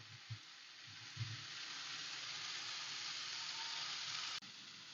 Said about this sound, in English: saute until it's golden brown